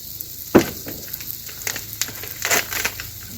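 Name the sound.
oil sizzling on a hot discada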